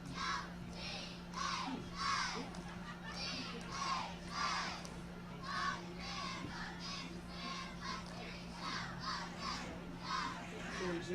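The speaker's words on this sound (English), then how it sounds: "the cheerleaders are cheering right now" High school cheerleaders cheering at a football game, rhythmic bursts of chanted shouts repeating over a steady background hum, fairly distant and faint.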